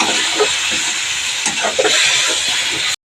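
Tomatoes hit a hot pan of spiced oil while cooking a village-style dried fish curry, giving a loud, close, steady hiss and sizzle with faint stirring that stops abruptly.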